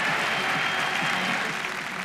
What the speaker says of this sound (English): And the home Victorian crowd cheering him on